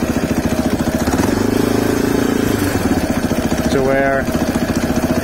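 A CSC RX3 motorcycle engine idles with a steady, loping pulse throughout, close and moderately loud, under someone talking.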